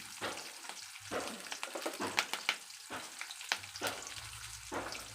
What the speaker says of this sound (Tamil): கருவேப்பிலை சேர்த்துட்டு இப்படி அப்படி நல்லா வணக்கலாம்